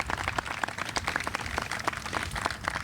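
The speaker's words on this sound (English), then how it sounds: "I think we should give them another big round of applause for their advocacy" An audience at a Colorado state capital renewal funding press conference claps in a brief, dense round of applause at moderate level, with no voices over it.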